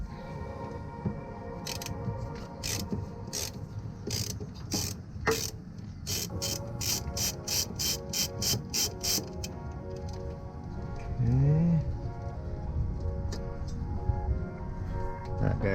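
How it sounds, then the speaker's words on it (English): A ratchet removes bolts from a Mazda Miata steering rack, producing a long run of rapid, evenly spaced metallic clicks close to the mic, over a steady background hum, then a brief squeak and handling noise. "Now we take out our bolts."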